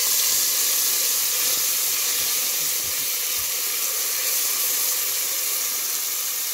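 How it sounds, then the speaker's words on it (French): Onions and garlic frying in a little oil, a steady, loud sizzling hiss that runs unbroken throughout with no talking. "Je vais faire revenir mes oignons et ail."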